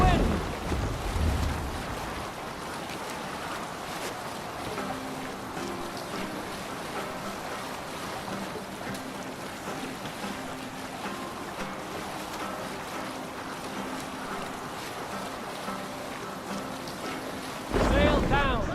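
A sailing ship in Assassin's Creed Valhalla moving through wind and waves, a steady rush of wind and water with creaking and low rumble, continuous and close, with brief voices at the start and end.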